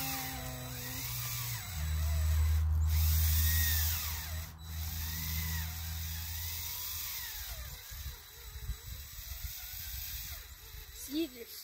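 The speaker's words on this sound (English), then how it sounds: "So first you need to get a drill" A power drill whirs steadily for a few seconds boring into a tree to tap maple sap, then stops, with rustling and a voice speaking nearby.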